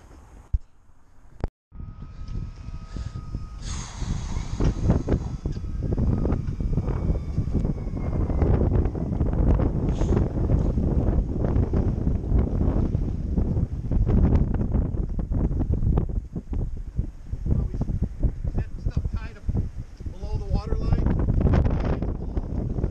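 Strong gusty wind at a boat launch buffets the microphone with heavy, continuous low rumbling and roaring, and a person speaks briefly through it.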